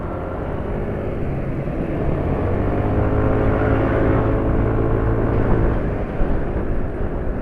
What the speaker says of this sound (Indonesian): Ya suara mesinnya akan kasar lah kayak gitu